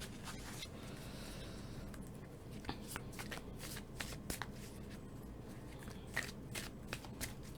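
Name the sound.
oracle cards being shuffled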